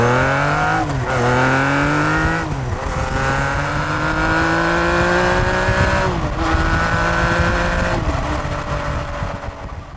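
A Honda CBX six-cylinder motorcycle accelerates hard through several gears, its smooth rising wail broken by brief dips at each shift, loud and close throughout with no voices.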